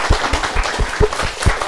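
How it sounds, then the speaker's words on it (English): Audience applause for a speaker at a careers and wellbeing event, a brief burst of fairly loud, dense clapping with sharp individual claps. "So a round of applause."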